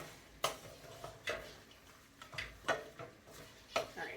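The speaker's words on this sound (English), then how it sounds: "Give it a stir." Baked beans with bacon stirred in a crockpot, a spoon scraping and clinking against the pot in several separate strokes at close range, with no talking.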